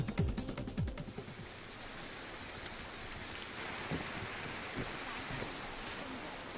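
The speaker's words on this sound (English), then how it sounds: "Heavy rains are continuing" Heavy rain pouring down, a steady dense hiss that continues evenly, with a few sharper thumps and knocks near the start.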